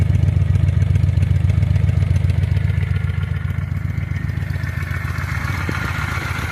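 A 2000 Honda Shadow 600 motorcycle engine runs close by with a steady, deep, throbbing idle and a faint mechanical clatter, holding an even rhythm throughout with no one talking.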